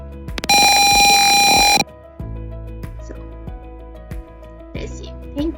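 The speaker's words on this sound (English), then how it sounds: "at the same time buzzer will start." A room temperature controller's buzzer sounding a loud, steady electronic tone for about a second and a half, followed by quieter rhythmic clicking and humming with faint background noise.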